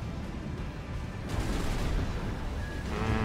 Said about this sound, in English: That cannon is not really the best thing here.